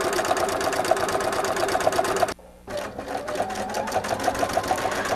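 A sewing machine overstitches a quilted zipper pouch with a loud, close, rapid mechanical chatter that runs steadily, cuts out for a brief pause, then picks up again at the same pace.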